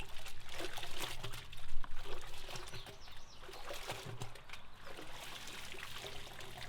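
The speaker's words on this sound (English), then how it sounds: "you just dip the chicken in and out for approximately 30 seconds" Water sloshes and trickles steadily as a slaughtered chicken is dipped in and out of a container of water for about 30 seconds to loosen the feathers, a continuous splashing pour with small bursts.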